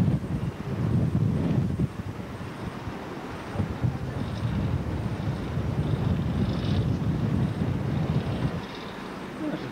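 Wind buffets the microphone atop Blackpool Tower in a low, rumbling roar that rises and falls over several seconds, with no speech.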